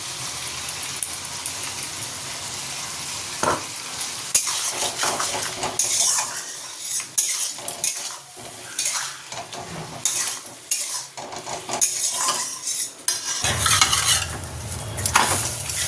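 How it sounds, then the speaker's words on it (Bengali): Ground spice paste going into frying vegetables and fish in a pan, then stirred with a metal spoon, a bright hiss that drops away as the paste lands, followed by repeated clinks and scrapes before the sizzle swells again near the end. "চলো বাটা মশলাটা দিয়ে দিই।"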